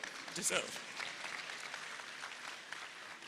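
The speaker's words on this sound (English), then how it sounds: "don't be shy, you can applaud." Faint, diffuse applause from an audience at a Manhyia and UNESCO launch event for a global movie award in Ghana, heard softly under a speaking voice.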